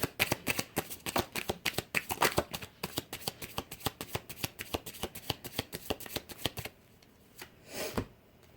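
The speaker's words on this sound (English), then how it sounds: "we're going to pull some cards from the Romance Angel Oracle deck here" A deck of Romance Angel oracle cards is shuffled in rapid, crisp riffling clicks, close and steady, before the shuffling stops with a brief final rustle.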